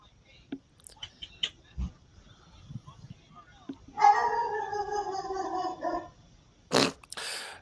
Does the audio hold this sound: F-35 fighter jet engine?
no